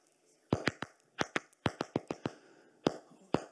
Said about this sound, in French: le cri d'un plant de tomates en détresse, en stress hydrique